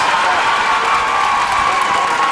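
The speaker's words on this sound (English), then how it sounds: "And this crowd's going nuts" A gym crowd at a girls' high school basketball game between Whitman-Hanson and Newburyport roars and cheers in a steady, loud wash of voices with no breaks.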